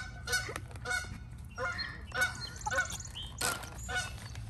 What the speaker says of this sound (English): Ah, the geese.